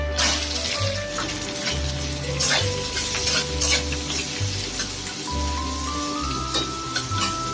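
Chopped onion, green chilli and garlic hit hot oil in a kadai beside frying egg for fried rice, giving a steady, close, broadband sizzle with light stirring scrapes throughout and no talk.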